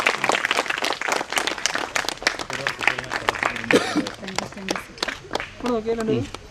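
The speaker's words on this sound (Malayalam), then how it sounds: "ഒരു കയ്യടി കൊടുക്കാം കയ്യടി കൊടുക്കാം" Applause breaks out at a village arts club felicitation gathering in Ayilur, a dense burst of many hands clapping steadily for several seconds, with cheering and voices rising through the crowd toward the end.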